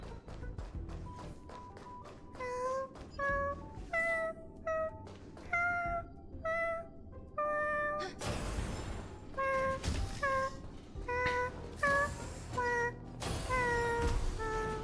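A cat-like creature in the video game Honkai Star Rail meows over and over in short, bright, chirpy calls, rising and falling in a lively rhythm over soft game background sound.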